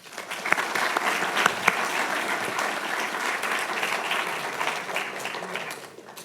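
A lecture audience applauds to welcome Dr. Alexis Antoniades, with dense, steady clapping from many hands that lasts about six seconds before it begins to thin out.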